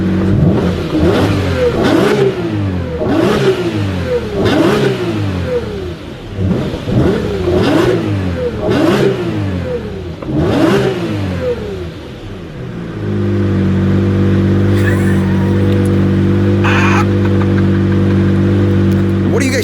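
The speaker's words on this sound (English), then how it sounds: "The Lamborghini Reventon V12, 650 horsepower." Lamborghini Reventon V12 with 650 horsepower, shown at a rev battle, snaps through about eight sharp, loud rev blips in steady rhythm before settling into a sustained, close, droning roar.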